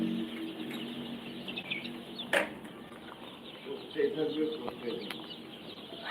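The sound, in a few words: Tiger breed chicks at a poultry farm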